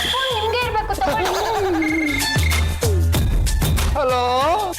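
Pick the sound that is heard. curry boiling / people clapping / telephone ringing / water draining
telephone ringing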